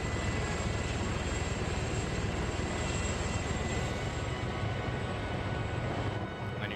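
A helicopter flies in a military video game mission, its engine and rotor drone steady, loud and unbroken from start to finish, with no voices over it.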